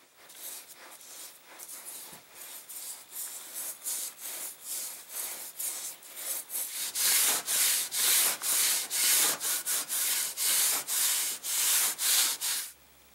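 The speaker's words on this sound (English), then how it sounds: "I'm going to wipe most of it off so all the wood grain shows through" Cloth rubbing Minwax ebony stain off a wooden axe handle, a steady series of scratchy back-and-forth wiping strokes that grow louder and faster, close up with no talk.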